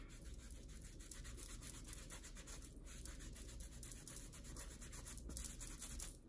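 Makeup swatches of creamy, highly pigmented eyeshadow being wiped off the back of a hand, a steady soft rubbing and scrubbing that runs close and continuous with no talking.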